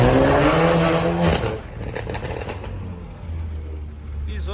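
A turbocharged Volkswagen Jetta engine revs hard under acceleration, a loud rising tone that drops away into a rougher, quieter drone with a brief low surge near the end.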